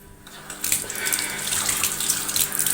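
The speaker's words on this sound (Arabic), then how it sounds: "اغسل ايدي." A kitchen tap runs steadily as hands are washed beneath it, a loud, continuous rush of water close by that swells after a brief quiet start, with no voices.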